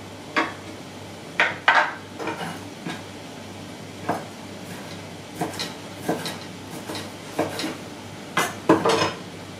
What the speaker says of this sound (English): I have an anchovy fillet here. I'm gonna use maybe 3, 4, and roughly chop it.